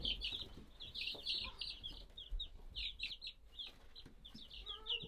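Young meat chickens cluck and chirp steadily in a brooder hut, a busy overlapping flock of short high calls close by, with faint shuffling underneath and no talking.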